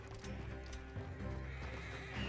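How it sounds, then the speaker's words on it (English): Horses neigh and whinny in the Red Dead Redemption 2 video game, with clip-clopping hooves beside a coach and a steady low rumble under the sounds. "We can take the horses from that coach."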